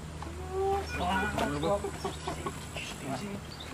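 A hen clucks in short repeated calls at a children's summer camp, mixed with overlapping voices and background chatter at moderate volume.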